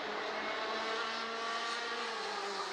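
Race car at speed on the Kandava circuit, engine droning steadily and loud throughout with a sustained high whine and no pause, heading through the braking zone and turn 7.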